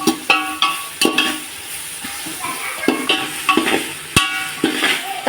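Tomatoes sizzle in a pan for chicken biryani while a spoon stirs them, giving repeated sharp scrapes and clinks against the metal over a steady frying hiss.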